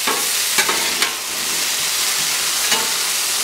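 Carne asada breakfast potatoes frying on a Blackstone griddle, a loud continuous close-up sizzle with a few brief scrape-like clicks from turning, no voices.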